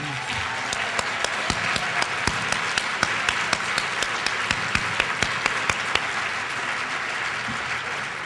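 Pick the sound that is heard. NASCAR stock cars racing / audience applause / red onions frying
audience applause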